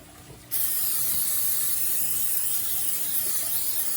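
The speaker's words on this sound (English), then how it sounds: "we're gonna also use some olive oil spray, cooking spray" A steady, close hiss of olive oil cooking spray sprayed into a pan, held continuously for several seconds after a short quiet start.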